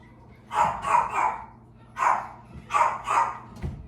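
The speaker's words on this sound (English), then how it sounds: "What's he barking at?" A dog barks in short bursts, two groups of three then two, moderately near, with brief quiet between.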